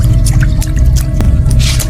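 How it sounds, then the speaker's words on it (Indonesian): Water from a tap that keeps running pours onto a kitchen floor, a steady loud splashing and trickling with scattered drips, heard alone and close. "air menggenangi lantai dari keran yang terus mengalir"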